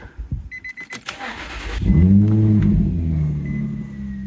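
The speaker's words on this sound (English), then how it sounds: "start it up and let it get to operating temperature" A starter cranks in short bursts, then a 2008 Infiniti FX35 engine catches with a rising roar and settles into a steady idle, close by and loud.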